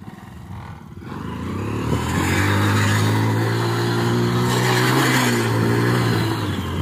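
A motorcycle revs up close on a road for a stunt, its engine climbing from idle to a sustained loud, steady roar that holds for several seconds before easing slightly.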